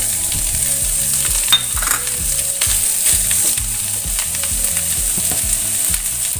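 Carrots fry in a pan for a vegetarian dish, giving a loud, steady, close sizzle with a dense hiss throughout, occasional stirring scrapes, and a rhythmic low thumping in the background.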